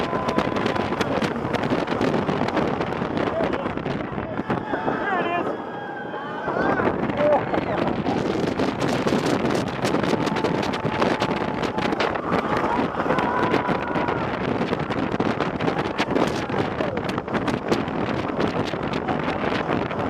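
Heavy wind rush roars steadily during a back-row ride on the Xcelerator roller coaster at Knott's Berry Farm, dipping briefly partway through, with faint rider voices under the noise.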